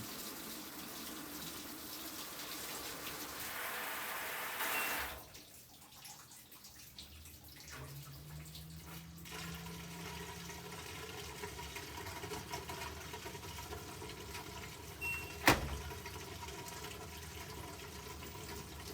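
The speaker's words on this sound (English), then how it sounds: "I'm gonna fast forward to test 4 since that's where the drain pump kicks in." Steady rushing water and a low mechanical hum as a newly replaced drain pump runs in an LG WT7300CW top-load washer, with a brief clunk near the end.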